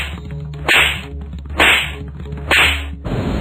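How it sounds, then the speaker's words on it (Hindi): Rapid slaps in a cartoon bedtime story, three loud sharp whip-like smacks spaced about a second apart, each with a bright crack and short ringing tail, alone without talk. "उन्होंने मौली के गाल पर एक जोर का थप्पड़ मारा। बस फिर क्या था, जादुई मुकुट से एक तेज रोशनी निकली और चाचा जी पर थप्पड़ों की बरसात"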